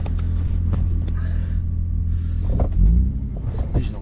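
A 4WD engine idles and works at full lock through a tight three-point turn on a Mount Sterling track in the Victorian High Country. It gives a steady, close, low rumble that swells briefly near the end.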